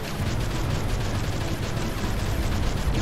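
Dense, continuous rumbling blasts of explosions and crackling bursts overlap without pause, loud and noisy like heavy gunfire and detonations in the PC game Wings of St. Nazaire.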